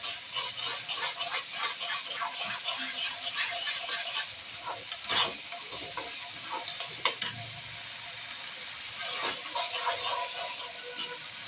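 Tomato paste cooking down in a pan, with a steady close sizzle and bubbling while a spoon scrapes and stirs it in repeated strokes, plus a few sharper knocks against the pan and no talking.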